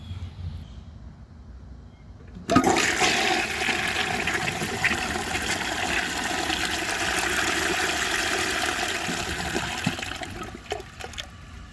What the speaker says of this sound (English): So anyway, I will give it a flush and see how it does on tests.